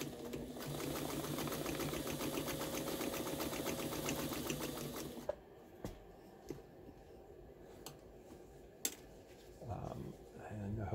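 A Pfaff 130 sewing machine stitches a wide zigzag at full stitch width, running with a fast, steady mechanical chatter for about five seconds before stopping, followed by a few scattered clicks and handling noises.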